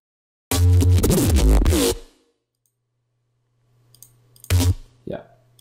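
A reese bass synth built in Massive with effects plays a thick, gritty one-and-a-half-second growl, followed by silence and then a brief second stab with a low tail.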